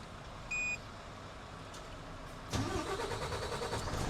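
A car engine starts partway through, then settles into a steady running and driving sound. The road noise holds to the end, with no talk over it. A short high beep comes just before the engine catches.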